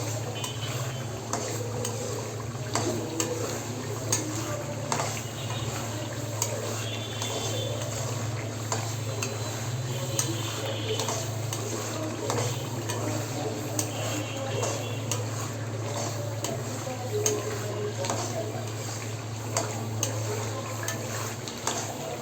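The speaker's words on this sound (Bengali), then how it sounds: "তো এভাবে করে আমি আরও কিছুক্ষণ সময় মশলাটা পুরো ভুনা ভুনা করে ফেলব।" Spice masala for a dark, black-style bhuna meat dish is stirred and fried in a pan: a steady, close sizzle with a constant stream of light spatula scrapes and ticks.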